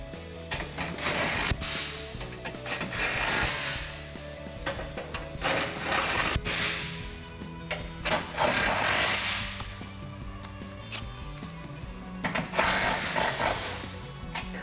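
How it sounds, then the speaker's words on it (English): Bolts on a Jeep Gladiator JT exhaust, 18mm bolts and a 13mm nut, being tightened with a ratchet: steady mechanical clicking and clattering, near and moderately loud, with bursts of metallic rattling and no talk. "Now we can go ahead and tighten down our factory hardware."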